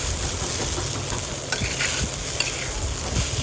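Sabudana khichdi being stirred in a hot pan, with steady scraping and soft sizzling and a few sharper knocks of the spoon against the pan. No one speaks.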